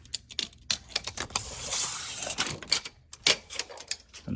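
Metal tape measure being pulled out and handled while measuring inside a window frame: a quick series of sharp clicks and rattles, close and irregular, with a brief smoother rasp of tape sliding out.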